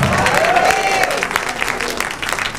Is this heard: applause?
yes